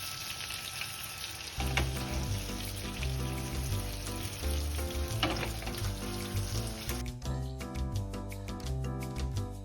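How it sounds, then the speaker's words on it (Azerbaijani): Wine boils in a frying pan as steak sauce is made, giving a steady, close sizzle and bubbling that runs under loud background music for the whole stretch. "Çaxır orada qaynamalıdır."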